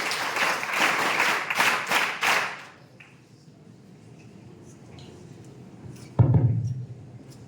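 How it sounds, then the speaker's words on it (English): A school audience of high school students claps warmly at a talk for about two and a half seconds, then the room falls quiet, with a brief thump near the end. "Please give him a big round of applause"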